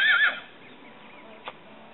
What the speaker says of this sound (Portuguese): Ó a Milena, tá a cavalo sozinha